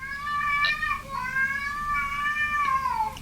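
A cat gives a long, wavering meow close by, drawn out into a yowling, caterwaul-like cry that rises and falls for about three seconds.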